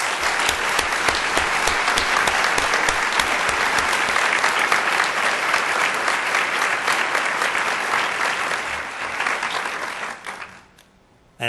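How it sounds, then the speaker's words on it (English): An audience at a school district accreditation workshop applauds steadily with dense, continuous clapping that carries on for about ten seconds before fading out quickly. "I think you should give yourself a round of applause."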